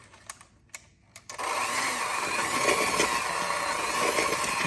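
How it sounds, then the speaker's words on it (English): An electric hand mixer whirs into twice-baked potato filling, switching on after a few soft knocks and then running as a steady, loud motor drone with a gritty churning texture, close up. "Now we just take our mixer"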